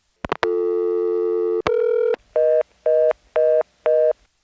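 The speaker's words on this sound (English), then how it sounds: "to hear that long dial tone with no digital fuzz in it is kind of cool" Electromechanical telephone exchange from 1977 (Step and ESS equipment), heard through a few short tones and a long steady dial tone, a second brief tone, then four evenly spaced beeps like a busy signal, clean and alone.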